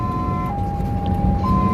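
An ambulance siren wails steadily through the whole stretch, a sustained tone holding over a loud, constant bed of road and engine rumble, with no talking.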